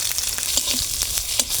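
Seven whole tempering spices, among them cumin, fenugreek, radhuni and nigella, sizzle in hot oil for a thin fish curry with green aubergine, a close, dense crackle with light stirring clicks.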